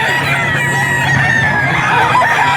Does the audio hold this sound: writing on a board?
no